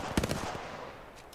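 Rapid bursts of video game gunfire crack out close and loud early on, followed by a couple of fainter shots near the end.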